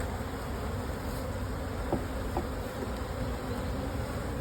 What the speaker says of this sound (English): shake the bees out